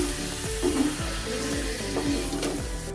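Adamant creeper (pirandai) stems sizzling as they are sautéed in a pan for a Tamil chutney, with a steady frying hiss and a few scraping stir strokes.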